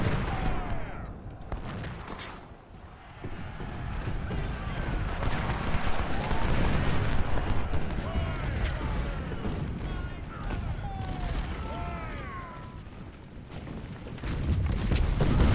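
In Ultimate General: Civil War, Union 24-pounder artillery booms among continuous battlefield gunfire and musketry, a dense distant rumble with scattered sharper reports.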